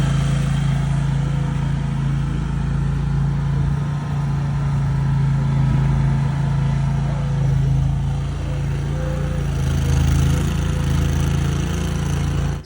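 Bad Boy wheel loader engine running steadily nearby, a loud continuous low diesel drone with a deep hum that holds even throughout, no speech.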